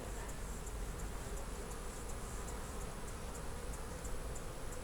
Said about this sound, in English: It's got a lot of bees.